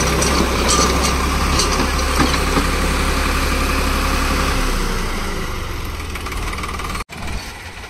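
Ace 350 40HP tractor engine running steadily with a 6-foot rotavator, a loud, constant low diesel drone that eases slightly near the end before a brief cutout and resumption.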